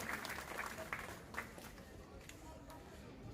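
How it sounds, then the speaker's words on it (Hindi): Faint, distant applause for a guest at a Hindi-language cultural function: soft, scattered clapping spreads through the hall, low in level and somewhat muffled. "जोरदार तालियां"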